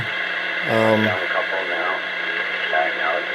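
A CB radio speaker plays back a recorded voice with a tinny, crackly tone and a steady background hiss.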